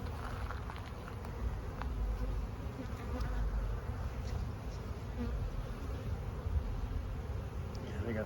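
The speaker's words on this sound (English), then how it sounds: "Don't mind the bees in my trousers, but they gotta stay below the knee." Honey bees swarm and buzz steadily around an open Langstroth hive during a full inspection, a dense close drone with faint talk underneath.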